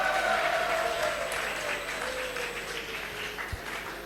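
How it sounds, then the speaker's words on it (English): Audience applause at a leadership session in a hall: a steady, dense wash of clapping from a large crowd that holds an even level throughout, with a faint tone running beneath it. "Come on, give yourself a round of applause."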